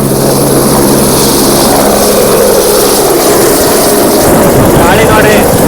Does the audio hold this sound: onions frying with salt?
no